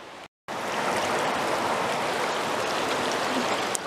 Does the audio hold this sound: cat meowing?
no